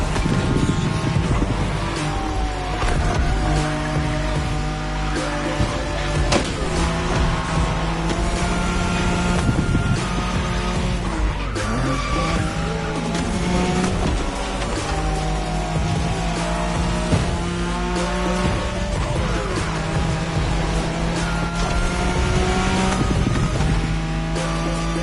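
A Nissan Skyline racing in The Crew Motorfest, its engine roaring and shifting continuously at close range with tires squealing through corners, mixed with game music and wind.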